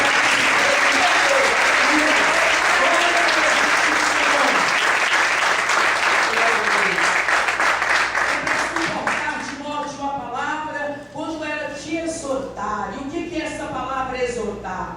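Congregation applauding at a church ministry gathering for workers and pastors, a dense sustained wash of clapping that thins after about ten seconds as a voice begins speaking over the fading claps.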